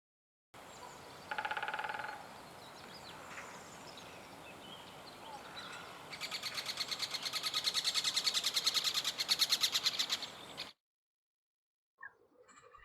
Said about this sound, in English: a woodpecker drums,